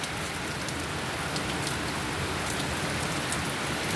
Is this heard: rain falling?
yes